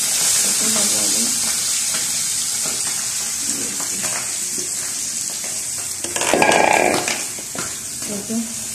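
Fish pieces dropped into hot oil in a pan for a Bengali fish curry sizzle loudly and continuously, with a burst of stronger spitting midway and stirring scrapes, while someone talks over the frying.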